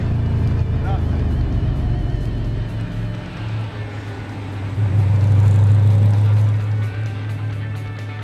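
A Ford GT drives with a deep, loud engine rumble that swells and surges midway, heard from close inside the car, with people talking over it.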